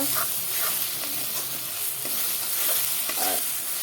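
Spice masala for egg curry being stirred and fried, with a bright continuous sizzle and occasional spoon scrapes through the paste, close and even with no voices.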